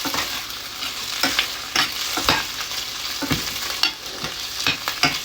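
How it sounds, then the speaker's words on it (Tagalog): Lechon skin sautéing in a pan with a steady hot sizzle and repeated sharp scraping strokes of a spatula stirring it, close and fairly loud, with no talking. "Ito yung balat ng lechon. Isotay natin siya."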